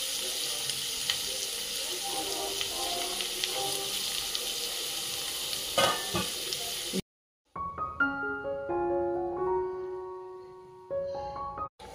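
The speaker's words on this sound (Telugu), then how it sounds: "ఉల్లిపాయలు బాగా ఫ్రై అయిపోయినాయి" Onions fry in a pan for fish curry with a steady sizzle and a few scraping stirs for about seven seconds, then the sound cuts to a different stretch with tonal clatter.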